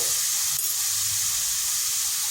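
Dried red chillies and spices crackle in hot oil with a steady, close, bright sizzle that holds evenly throughout, with no talking.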